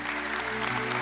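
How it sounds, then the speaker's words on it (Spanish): A Sunday church congregation applauds in a steady wash of hand claps that lasts about a second, blended with sustained tones from music in the room. "Alguien tiene que aplaudir."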